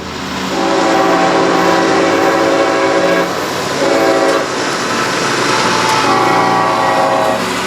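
Norfolk Southern heritage locomotives rolling past close by, loud rumbling with repeated horn blasts sounding in several bursts over the passing train.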